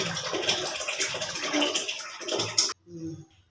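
Hot water runs and splashes over prawns being rinsed, a steady close rush of water that cuts off abruptly, followed by a few softer drips and handling sounds.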